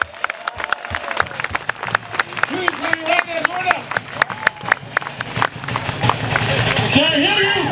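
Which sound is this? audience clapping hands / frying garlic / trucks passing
audience clapping hands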